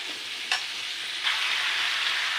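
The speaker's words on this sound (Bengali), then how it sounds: "আলু আর কুমড়োটা একটু ভেজে নেব" Potato and pumpkin pieces fry steadily in hot oil with a continuous close sizzle, a brief stir clatter near the start and a louder burst of sizzling partway through; no one speaks.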